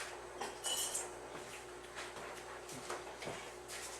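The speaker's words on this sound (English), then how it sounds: "let me get a spoon, I'll show you what it looks like." Metal cutlery clinks and rattles faintly as a spoon is picked out of a utensil holder in a home kitchen, a few light taps and scrapes spread through a quiet room.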